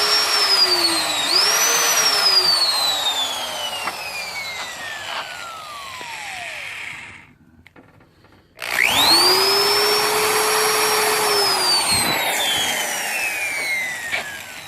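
A drill countersinks holes in a board for a dollhouse basement, its motor whining loudly and steadily up close. The whine drops away briefly partway through, then starts again at full pitch.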